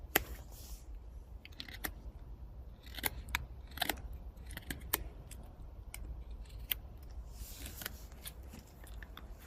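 Short, crisp cuts and scrapes from a Böker Plus Mini Tracker knife blade carving a notch into wood, arriving as irregular scattered clicks and rasps at close range with no talking.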